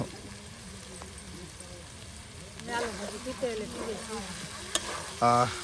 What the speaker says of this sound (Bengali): দেখুন কত তেল দিয়ে ভাজা ভাজা করা হচ্ছে।